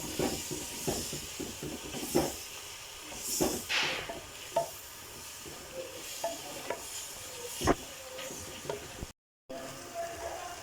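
Mung dal being stirred and mixed in a cooking pot, with soft scraping and wet sizzling hiss and scattered knocks of the spoon over several seconds, close by and with no speech.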